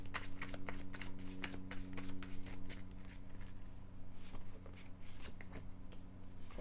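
Tarot cards are shuffled by hand for a reading, a close, quiet series of rapid riffling and flicking bursts that repeats steadily.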